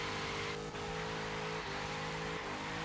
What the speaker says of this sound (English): typical muscle car, lots of power, so yeah, lots of wheel spin at the same time